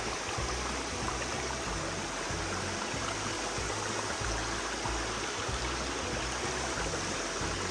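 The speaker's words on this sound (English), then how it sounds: "It's a nice little brook got across." A small brook flowing along the Appalachian Trail, a steady close rushing and babbling of water that fills the whole stretch without pause or voices.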